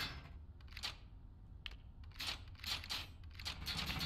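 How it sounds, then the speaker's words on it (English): Rapid typewriter clacking inside the LEGO Harry Potter: Years 5-7 video game, a run of close, crisp key strikes in irregular bursts that grow busier and louder toward the end, with a low steady game hum beneath and no talking. "There's a typewriter here that sounds like it's a bomb."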